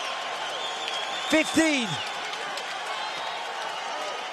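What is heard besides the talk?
UFC arena crowd cheering during fight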